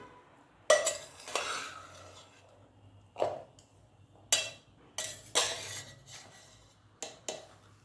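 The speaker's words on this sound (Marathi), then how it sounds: "आता हा एकदा परत हलवून द्यायचा आहे" A spoon stirs sweet coconut rice (narali bhaat) in a pot, giving sharp scraping knocks and clinks at irregular intervals over a quiet background.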